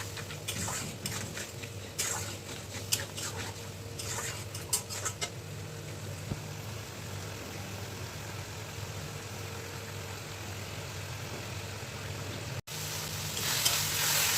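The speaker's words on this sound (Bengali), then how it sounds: "পরিমাণ মতো নুন, ভালো করে কষিয়ে দেবো" Spices for a Bengali fish curry sizzle and fry steadily in a pan with salt, stirred now and then with scraping clicks, a continuous close frying hiss with no talk.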